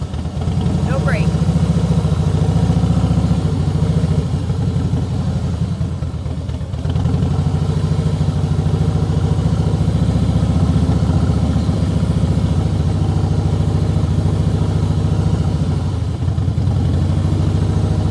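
A motorcycle engine idles and rumbles steadily nearby throughout riding practice, a low continuous drone that barely changes, with people talking over it.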